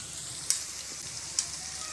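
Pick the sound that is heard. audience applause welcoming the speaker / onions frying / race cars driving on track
onions frying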